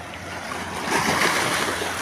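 Sea waves washing onto the rocky Bandra Bandstand shore in Mumbai, a steady broadband rush of surf that swells slightly louder midway, with some wind noise on the microphone and no talk.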